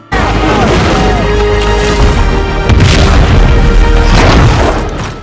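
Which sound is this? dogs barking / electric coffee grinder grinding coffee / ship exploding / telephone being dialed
ship exploding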